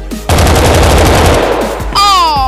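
Automatic gunfire in a shooting video game, a long dense burst of rapid shots that runs loud and continuous for most of the moment, followed by a bright electronic game tone near the end.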